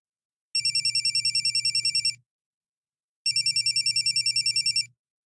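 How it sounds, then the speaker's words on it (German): A mobile phone's electronic ringtone trills in two identical bursts with a quiet pause between, each accompanied by a low buzzing vibration. "Da klingelt Lottes Handy."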